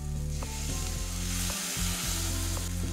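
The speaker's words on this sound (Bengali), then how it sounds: "মশলাটা ভালো করে কষে নিতে হবে" Spice paste (masala) fries in oil for a fish curry with potato, peas and cauliflower, giving a steady, close sizzle that continues throughout under background music.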